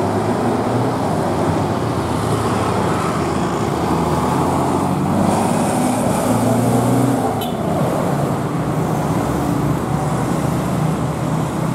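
A bus pulls away from Karangpucung terminal, its engine rumbling steadily beneath continuous roadway noise, moderately loud and close throughout.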